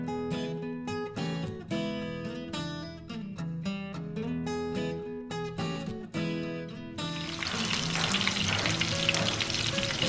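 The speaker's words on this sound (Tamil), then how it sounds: "ஃப்ரை பண்ணி எடுத்துடலாம்." Chicken crispies shallow-fry in oil, a dense, steady sizzle that enters after several seconds of melodic music and continues fairly loud to the end.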